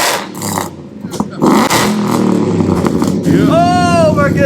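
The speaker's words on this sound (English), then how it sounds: "did you hear that cracking pop? Oh my goodness, that's the X pop." A supercharged Ford F150 with a 5.0 engine and custom stainless dual exhaust revs loudly up close, with sharp bursts and crackling surges; a voice chimes in near the end over the engine.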